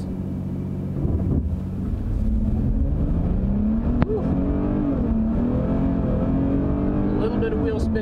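A 2020 Dodge Challenger SXT accelerating hard with some wheel spin, a loud rising engine roar building steadily and nearby, with a person talking over it.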